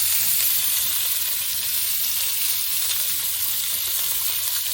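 Sausages, bacon and mushrooms fry together in a pan with a dense, close, continuous sizzle and no talking.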